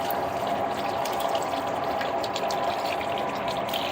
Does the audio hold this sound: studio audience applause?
no